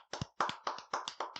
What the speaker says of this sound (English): Let's just clap it up for